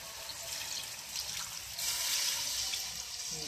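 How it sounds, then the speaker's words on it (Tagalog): Water poured into a cooking pot for Filipino boiled pork, a steady liquid trickle and splash running continuously at close range throughout, with no talk over it. "Susunod, lagyan natin ng tubig."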